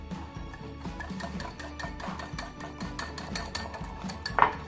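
A spoon stirs pizza dough in a mug, with repeated light clinks and scraping against the ceramic in an irregular rhythm, close and fairly quiet, ending with a sharper knock.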